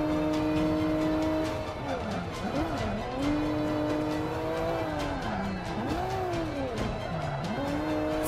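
A race car engine in Forza 5 revs steadily as pitch swoops down and up through gear changes and corners, with tire noise under a constant loud engine drone and someone talking over it.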